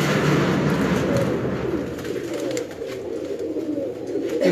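A pigeon hen of a fancy breed coos in soft, repeated low throaty calls, close by, over a steady background hum with occasional faint clicks.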